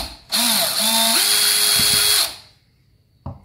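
A power drill unscrews the screws from a deadbolt lock on a door, whining loudly for about two seconds with a pitch that rises partway through. A brief clunk and a short click follow after it stops.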